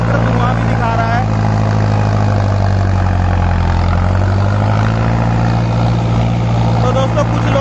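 A smoking diesel tractor engine runs nearby with a deep, steady throb that dips slightly midway and then holds on.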